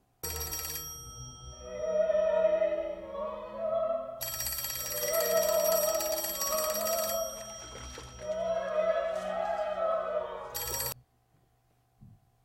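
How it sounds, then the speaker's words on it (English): An old rotary telephone rings in a film, loud bursts of jangling bell that repeat over a low, sustained score and then cut off abruptly near the end. "to the old rotary phone"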